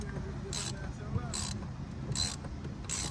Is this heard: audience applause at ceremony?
no